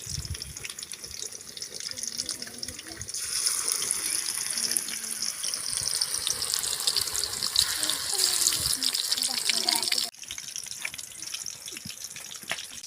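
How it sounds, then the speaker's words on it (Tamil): Fish frying in hot oil for a home-cooked fish fry: a steady, fairly loud broadband sizzle builds and holds for several seconds, then drops sharply and continues more softly. "இந்த பக்கம் வந்து மீனை வந்து எண்ணெயில் போடுறேன்"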